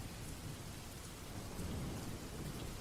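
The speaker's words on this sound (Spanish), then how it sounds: "la lluvia golpeaba contra las ventanas de mi casa como dedos fríos" Steady rain beats against the windows of a house at night, with low rumbling thunder rolling underneath, a dense continuous wash of sound with no voices.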